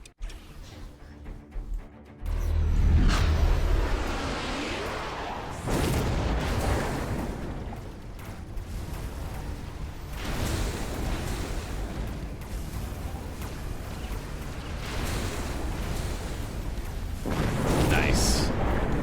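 A missile explosion in Borderlands 3 booms loudly, followed by sustained rumbling blasts and heavy combat noise that keeps going throughout.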